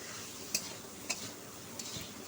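Dheki saag with potato, turmeric and salt is stirred in a pan, a faint soft sizzle with a few sharp utensil clicks against the pan, quiet and close.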